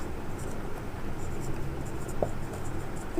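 A pen writes an answer to a Class 10 trigonometry question on paper, making a soft, continuous scratching that stays faint and close throughout.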